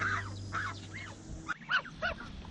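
A restless young goose honks in a series of short calls while it wanders around its pen, the calls coming at an uneven pace and sounding close but fairly quiet.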